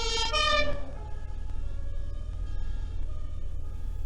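An emergency vehicle's siren wails loudly at first and then fades as it moves along a corridor through stopped traffic, with a low engine rumble underneath throughout.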